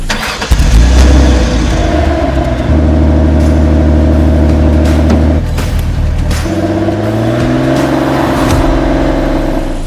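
A Porsche RS 3.8 with its 3.8-litre flat-six, driven in Need for Speed Porsche Unleashed, starts with a bark and then drones at steady revs before climbing and shifting pitch, loud and close, alone without talk.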